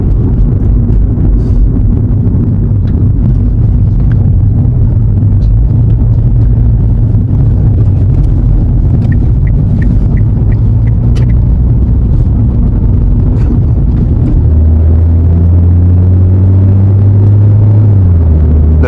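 Loud, droning engine of a 2016 Kia Rio sedan held at high revs while driving, steady and close inside the cabin with wind rumble. The pitch shifts upward near the end, with no voices.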